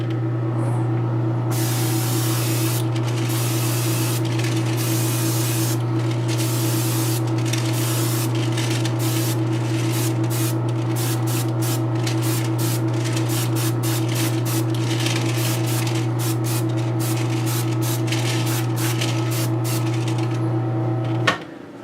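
Fans in a large airbrush booth run loud and steady with a low hum and a broad airy rush, close by, interrupted by brief spray-like bursts before stopping abruptly at the end.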